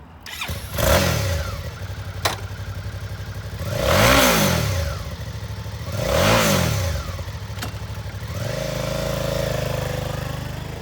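A used 2017 Suzuki V-Strom 650 adventure-touring motorcycle revving close by, three rising and falling throttle blips over a steady idle, then settling into a higher sustained idle.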